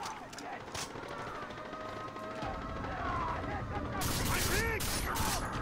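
Gunfire in the video game Far Cry 3 rattles in bursts, getting louder toward the end over a background of game noise.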